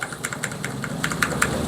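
Typing on a mechanical keyboard with old keycaps and brown switches, several light, evenly spaced clicks over a low steady background hum, close but fairly quiet.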